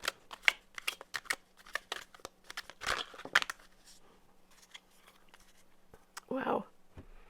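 Tarot cards are shuffled close to the microphone in quick, crisp bursts of riffling and flicking, irregular and dense at first, then sparser, with a louder rustle near the end in a quiet room.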